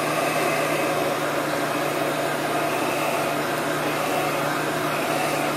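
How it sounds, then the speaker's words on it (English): A heat gun blows steadily while drying chalk paste on a Chalk Couture transfer project, giving a loud, continuous whooshing drone with a constant motor hum that holds unchanged from start to finish. "And now I'm going to dry this with my heat gun."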